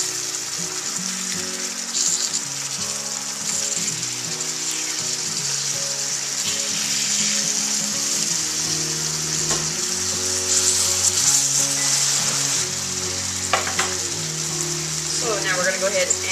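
Brown sugar and bourbon glazed salmon sizzling steadily in a frying pan, a close, constant crackle and hiss with occasional louder spits and scrapes, while a voice speaks over it.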